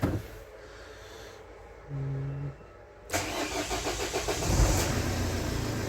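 A 2008 Renault Trafic van cranks after a fitted new sensor and catches at about three seconds, settling into a steady mid-pitched diesel idle with a slight rev that stays close and fairly loud.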